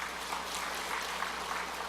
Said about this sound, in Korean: 자, 여러분 박수 한번 해주세요.